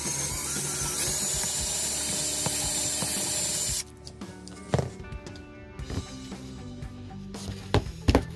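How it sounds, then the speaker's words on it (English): A power drill whines steadily for several seconds boring a tiny screw hole for guitar tuning machines, then stops, followed by scattered knocks and clicks of handling nearby. "drill a tiny hole in there so we can screw them in there"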